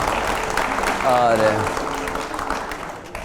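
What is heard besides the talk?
audience applause at a political speech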